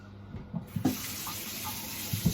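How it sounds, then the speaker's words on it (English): Tap water runs steadily into a cooking pan of bacon juice while homemade pizza breads are being prepared, a soft continuous splashing and trickling heard up close with no talk. "I am going to add just a little bit of tap water."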